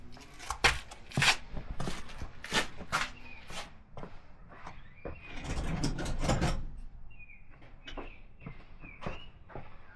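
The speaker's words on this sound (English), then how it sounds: "So let me go grab my ratchet to tighten these up by hand." A ratchet tightens the clutch cover bolts on a Harley-Davidson Road King motorcycle, giving close, loud bursts of mechanical clicking and metallic clatter, with brief pauses and a longer grinding stretch midway.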